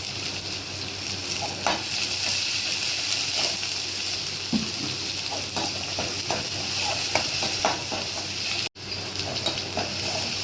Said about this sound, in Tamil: இப்போ எண்ணெய் காஞ்சதும் வெங்காயம் போட்டுக்கலாம்.